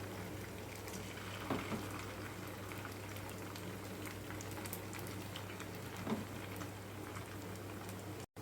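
Chicken pieces sizzle steadily in hot oil in a pan, making a soft, even crackling hiss with a low hum underneath. Two faint pops stand out and no one speaks.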